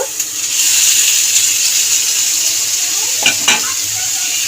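Boiled arum (ol) stems drop into hot oil with frying spice paste, giving a steady loud sizzle throughout with brief stirring clatters near the end; no talking.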